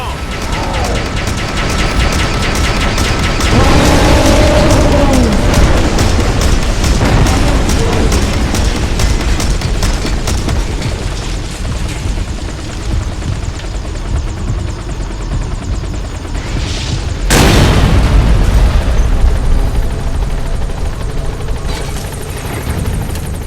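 A military helicopter's minigun fires in Metal Gear Solid V: The Phantom Pain, with a loud, steady rotor drone and crackling bursts running throughout and a sharp blast near the end.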